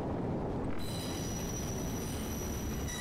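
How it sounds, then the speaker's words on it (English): A train brakes in the Kane & Lynch 2 video game, with a steady high metallic squeal of wheels on rails held over loud, dense rumbling noise for the whole stretch. "It turns out trains have brakes."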